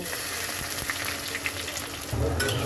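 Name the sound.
onion frying in hot oil with cumin and bay leaf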